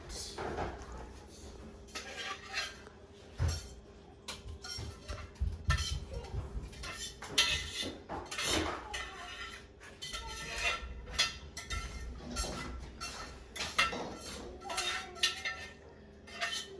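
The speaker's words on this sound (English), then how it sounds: "So he's scraping everything off of the pan." A cook scrapes lasagne meat sauce from a pan into a sauce pot, with repeated metal-on-metal scraping and clinking of a utensil against cookware, close and fairly steady.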